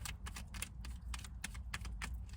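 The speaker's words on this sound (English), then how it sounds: "I'm just shuffling." Tarot cards being shuffled by hand, a quick series of crisp riffling snaps and soft taps in an uneven rhythm, close and fairly quiet, with no talk over them.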